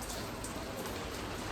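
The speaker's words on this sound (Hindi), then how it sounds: "बिन मौसम बारिश चल रही है" Steady unseasonal rain pattering down on a surface, a dense continuous hiss of drops with no voices.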